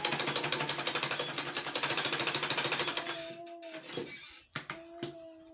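A sewing machine stitching a slanted seam on a wrap peplum blouse, running in a fast, steady, loud rattle for about three seconds before stopping, followed by a couple of short clicks and a faint hum.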